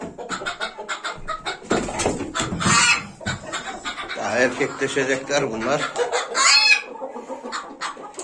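Young roosters cluck and squawk in bursts throughout, with someone speaking intermittently over them.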